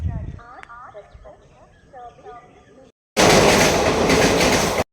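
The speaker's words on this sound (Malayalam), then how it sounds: "നമ്മുടെ ട്രെയിൻ ഇതാ ഇപ്പോൾ എത്തിയിട്ടേ ഉള്ളൂ കേട്ടോ." A late train arrives at a station. Talk comes first, then after a brief gap a loud, dense rumble of the passing train lasts about two seconds.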